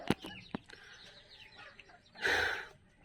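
Fayoumi chickens clucking and calling, with a couple of sharp close clucks early on and a louder, longer burst of calls near the end over faint background bird noise.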